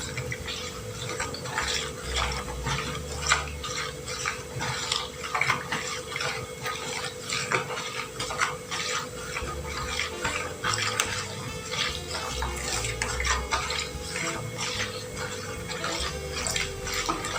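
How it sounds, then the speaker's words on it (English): SLS is stirred into water while being dissolved for homemade hair conditioner, giving continuous liquid sloshing with light clinks of utensil against container, a steady close wet churning that persists without pause. "So we are still dissolving our SLS inside water."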